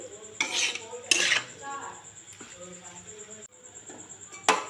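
A pot of chicken being stirred on the stove, with several clanks of a spoon and metal lid against the pot between quieter stretches, and a faint whine underneath.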